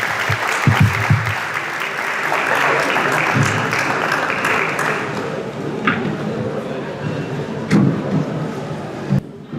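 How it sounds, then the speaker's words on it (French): Audience applause at the closing ceremony of a medical faculty's scientific days in Haiti, a steady roomful of clapping with a few thumps and knocks rising above it. "Encore applaudissements."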